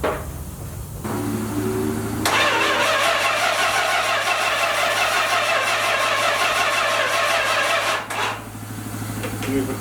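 The 383 V8 in a 1971 Dodge Coronet cranks over slowly on the starter, a loud steady rhythmic churning that runs several seconds and then stops, close up with background noise around it.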